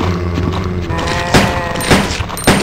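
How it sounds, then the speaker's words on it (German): Gunfire in the Resident Evil 2 video game: three sharp, loud shots spaced about half a second apart, over a steady hum of game background sound. "Dafür schießen wir jetzt gut."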